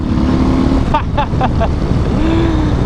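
A Harley-Davidson FXDR 114 motorcycle drones loudly and steadily underway, with engine pitch shifting around a downshift amid heavy wind noise; no speech is evident.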